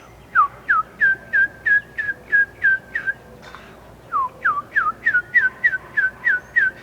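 Someone whistles a rapid run of short, falling notes in two bursts, imitating a turkey's call.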